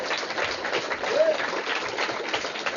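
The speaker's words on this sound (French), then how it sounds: "je crois que vous pouvez l'applaudir" A studio audience at a French entertainment show claps in a dense, continuous round of applause, moderately loud, with a voice faintly audible underneath.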